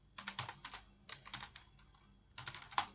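Typing on a computer keyboard in three quick bursts of close, crisp key clicks separated by short pauses, with no voices.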